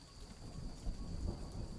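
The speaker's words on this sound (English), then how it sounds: "This is rain in Oregon" Steady rain in Oregon falls in a continuous, fairly loud wash of drops on surfaces, with low rumbling thunder-like swells rising now and then, and no voices.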